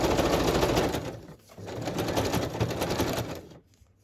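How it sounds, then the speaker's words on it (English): A sewing machine stitches across a boho journal cover with a fast, steady mechanical whir up close, pausing briefly once before running again, then stopping. "And I've already stitched here, but I'm just going to go across again."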